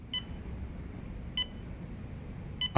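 Three short electronic beeps from a timer in the video game Lost Judgment ring out at regular intervals of a little over a second, clear over a quiet low background.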